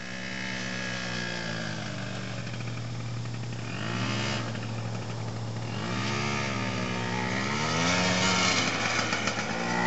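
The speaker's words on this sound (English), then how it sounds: "Give her a little gas, buddy." Quad ATV engine idling and revving up, a steady loud motor drone whose pitch rises and falls in swoops as the throttle is given gas, close by with no talking.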